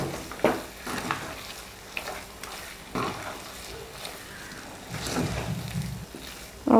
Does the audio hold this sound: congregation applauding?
no